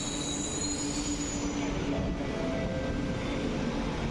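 A Chennai Metro train pulls into a station with a loud, continuous rumble and a high squeal of wheels on rails, heard up close with no voices.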